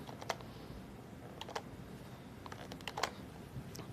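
Light keystrokes on a computer keyboard during a spreadsheet calculation, scattered irregular clicks with a few sharper presses such as an enter key, quiet and close with no talking.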